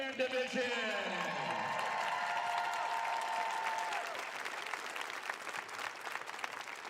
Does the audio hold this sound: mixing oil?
no